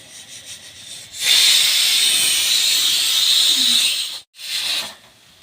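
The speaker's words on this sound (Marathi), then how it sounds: "आता मी पापलेट तळून घेणार" Pomfret fish frying in a pan gives a loud, broad sizzling hiss that bursts in after a quieter start, holds for about three seconds, cuts out briefly, then returns for a short final burst.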